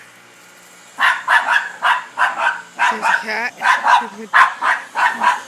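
A dog barks repeatedly at a cat in quick, loud bursts, with some higher yips mixed in, while a person speaks briefly nearby.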